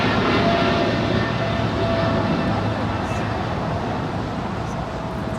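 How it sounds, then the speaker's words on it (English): A United Boeing 777-200ER jet departing LAX for Chicago gives a loud, steady broadband engine roar that stays continuous and close throughout, fading slightly toward the end. "That is United 3024 Heavy departing to Chicago. It's a 777-200 ER."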